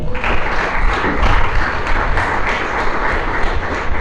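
A church congregation breaks into loud, dense applause, continuous clapping close by with a slight pulsing rhythm, filling the whole few seconds.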